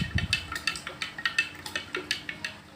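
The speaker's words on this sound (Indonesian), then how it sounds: "Lalu kita aduk rata." Sugar and water are stirred together in a container with a utensil, giving a quick, regular series of close, bright clinks and scrapes, about five per second, alone and clear with no talking.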